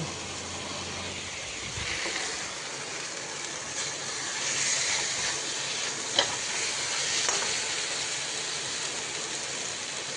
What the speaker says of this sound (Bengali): আমার চিকেনটা কষানো হয়ে গেছে, এবার দিয়ে দেবো জল।